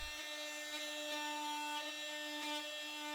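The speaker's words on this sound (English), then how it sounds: "I tried a scraper on the multi-tool" An oscillating multi-tool fitted with a scraper works on an old fir floor, giving a faint, steady, high buzzing drone with no pauses.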